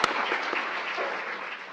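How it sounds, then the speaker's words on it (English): Audience applause at an evening health talk on caregiver stress, opening with a sharp crack and then a steady wash of clapping that slowly fades. "Let's give her a warm round of applause."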